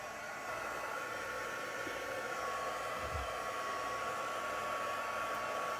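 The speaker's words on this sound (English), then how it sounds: "So this heat gun has 2 settings on it." A heat gun on its low setting, used for heat setting while crafting, gives a steady, close, hissing blow that holds evenly throughout with a brief low thump near the middle.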